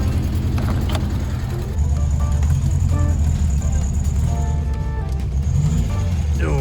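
A classic VW Beetle engine running rough while the car drives, a steady loud rumbling drone with uneven chugging and occasional sputters, close and continuous throughout.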